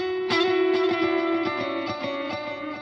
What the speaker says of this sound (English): But as we turn up this global dry wet, we're gonna hear the dry signal and the delay.